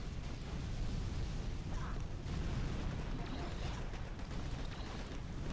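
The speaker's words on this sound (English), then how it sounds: "Really difficult to see what is happening here with all the explosions, I think, from the grenadier troops." Grenadier troops' explosions in Boom Beach, a continuous low rumbling wash of blasts and booms with little separation between hits, steady and dense throughout, with a faint voice speaking underneath.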